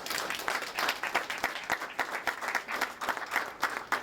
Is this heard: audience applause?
yes